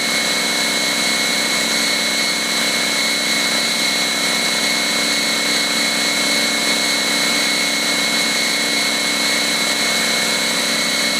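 A Harbor Freight Fortress 27 gallon air compressor runs steadily nearby, a constant even motor hum with a fixed whine and no change in pitch or rhythm throughout.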